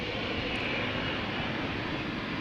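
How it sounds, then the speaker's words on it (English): KLM Boeing 787-10 Dreamliner jet taking off from Amsterdam Schiphol, a steady, loud broadband engine roar that holds constant throughout with no voices. "This is KLM flight 515 going to Zanzibar, 787-10 Dreamliner"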